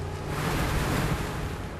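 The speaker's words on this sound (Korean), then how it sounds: "어째 파도가 심상치 않다" Rough sea surf around an eel-trap fishing boat churns steadily with a dense, low roar and wind noise, sustained throughout without pause.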